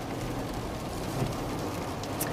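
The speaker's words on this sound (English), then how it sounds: "Mike and Shannon, we're actually driving into that second band of rain that Tony was just talking about." Steady rain drumming on a moving weather vehicle during a live roadside news report, a dense continuous wash of drops and road noise with no voices.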